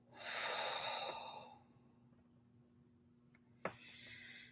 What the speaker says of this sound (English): And let's deep breath out.